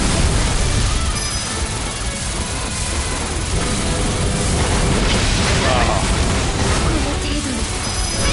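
A bomb goes off in the shoot-'em-up game Caladrius Blaze, a loud, sustained roar of crashing blasts and noise lasting several seconds over busy game sounds, with no speech.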